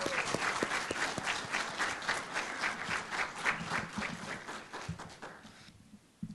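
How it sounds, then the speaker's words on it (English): Audience applause at a Southeast Model African Union conference opening ceremony, sustained steady clapping from a sizeable crowd for about six seconds before tapering off, with a few louder nearby claps at the start. "Please, may we give her another round of applause."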